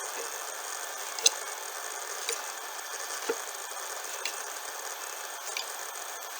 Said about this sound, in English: for the dryer or the washer or something like that, making noise